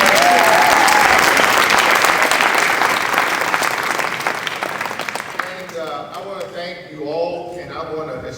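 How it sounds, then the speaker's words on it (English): Loud, sustained applause from a large crowd that gradually thins out, with a voice starting to speak as the clapping fades. "Let's give that young man a round of applause."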